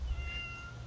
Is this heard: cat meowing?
yes